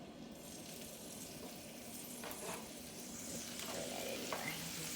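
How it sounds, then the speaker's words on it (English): Food sizzles and fries steadily in olive oil in a frying pan for a jambalaya, a continuous close crackling hiss at an even level throughout. "we're just going to put this in the frying pan. We're going to let it cook just a little bit."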